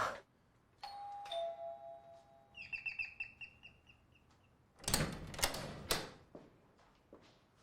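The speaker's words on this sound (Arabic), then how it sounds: "بترن الجرس ليه؟" Electronic doorbell ringing twice as sustained tones, then a quick run of chirping chime notes, followed by several loud knocks or thuds in a quiet room, with no talking.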